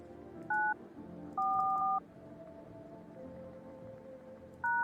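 An old phone in a video game dials a number: three separate short bursts of touch-tone beeps, clean and clear, over a low hum.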